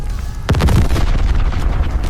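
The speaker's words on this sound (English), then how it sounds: "Bombs thud, vehicles explode, cluster munitions rip open overhead." A war-zone bomb explosion in a desert battle lands as a single deep, heavy boom, then rolls out into a long rumbling roar.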